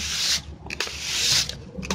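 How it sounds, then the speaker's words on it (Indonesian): Sandpaper rubbed by hand over a natural finish on Jati Belanda wood, between coats. Two long, close, rasping strokes with a short pause between them, and no talking. "Sekarang kita amplas lagi"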